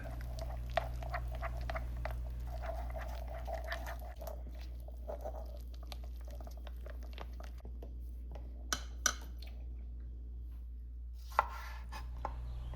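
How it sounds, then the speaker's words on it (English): A knife chops strawberries finely on a cutting board, a run of quick, soft, close taps that thins out and gives way to a few scattered cuts, all over a low, steady background hum. "Time to chop up these strawberries"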